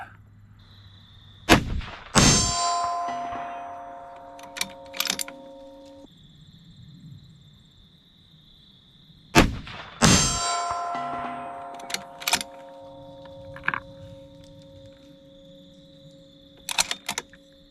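Rifle shots from a 6 Dasha PRS rifle ring off a steel target: two loud cracks, each followed by a sharp metallic clang and a sustained ringing tone, plus later fainter pings, with quiet pauses between.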